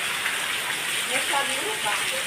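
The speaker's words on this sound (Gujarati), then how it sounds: "જો કેટલો બધો વરસાદ પડ્યો છે" Heavy downpour pours steadily onto surfaces at a flooding home, a dense, even hiss of rain with splashing water running close by throughout.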